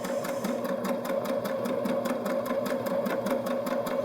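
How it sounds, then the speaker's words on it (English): A Baby Lock Jazz II sewing machine stitching a daisy-chain decorative pattern runs steadily and close, with a fast, even needle rhythm and the motor humming underneath throughout. "I would kind of call this maybe a daisy chain."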